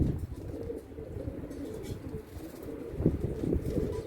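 Arab tumbler pigeons, a young female among them, cooing in low soft repeated murmurs that run steadily through the clip, with a few louder coos near the end.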